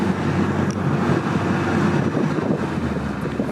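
A 1988–1997 Toyota pickup truck cruising in third gear after a clutch replacement, a steady low engine and road rumble heavily mixed with wind buffeting, continuous and fairly loud.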